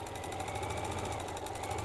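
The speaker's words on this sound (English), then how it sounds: "So I'm just top stitching down either side." A sewing machine runs steadily while top stitching down both sides of a bag, giving a continuous fast mechanical whir with rapid needle chatter and no pauses.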